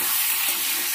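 Potatoes fry in hot oil in a pan for a rui fish curry, giving a loud, close, continuous sizzle with no voices.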